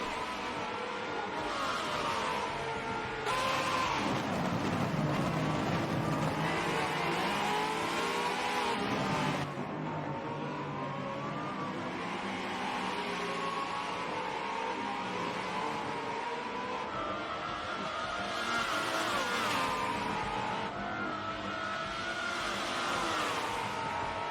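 Prototype race cars battle in a racing video game, with loud engines revving and shifting, tires squealing and cars sweeping past in overlapping waves, some sudden drops as throttles lift and rise again.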